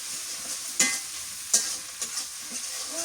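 Raw dried fish sizzles in hot oil in a village kitchen, a steady hiss broken by a few sharp pops and stirring scrapes, close and fairly quiet.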